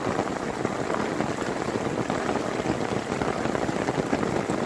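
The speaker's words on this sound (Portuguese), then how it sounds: "Ei, maravilha, é chuva" Rain falls in the Bahia sertão, a dense, steady downpour pattering on surfaces, loud and close throughout with no voices.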